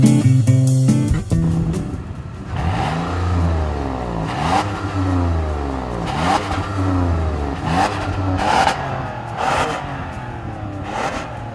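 2014 Toyota Sienna minivan engine accelerating hard from a standstill through several gear changes, pitch rising and dropping repeatedly in a mellow, moderate drone heard from inside, with no talk.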